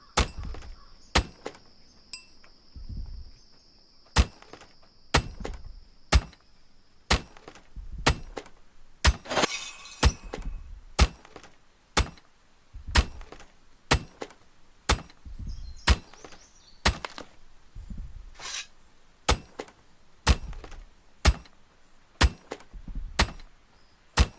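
Repeated hammer blows in the survival game Aska, roughly one per second, each a sharp wooden chop or thunk struck alone with brief pauses and steady rhythm.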